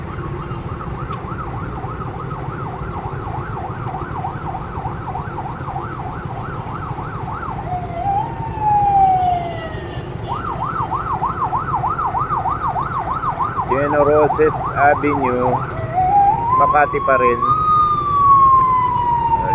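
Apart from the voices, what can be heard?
emergency vehicle siren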